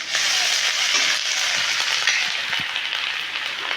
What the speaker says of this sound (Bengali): পেঁয়াজ ভাজা হয়ে গেছে, এবার 1 চামচ রসুন বাটা, 1 চামচ পেঁয়াজ বাটা আর 1 চামচ আদা বাটা দিয়ে